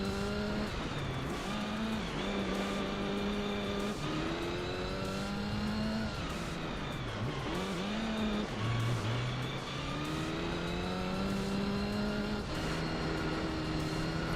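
Race car engine in Gran Turismo 3, a continuous loud drone whose pitch climbs and falls repeatedly through gear changes, with brief dips as it slows for corners, running steadily with no talking.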